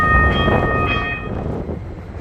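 A train arriving at Hoboken station, loud rumbling rail noise with a brief tonal horn-like whistle near the start, rolling steadily close by.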